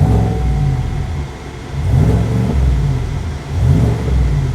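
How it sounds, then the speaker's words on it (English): A 6.2L V8 Chevrolet truck with a newly upgraded exhaust revs up and settles several times, a deep rumble, loud and close, with no talking. "Hear that new exhaust?"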